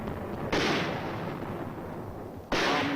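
Heavy 4.2-inch mortar shells from a mortar company bombard Hill 1179 in a continuous creeping barrage, giving two sharp, loud blasts with a long rumbling roar between them.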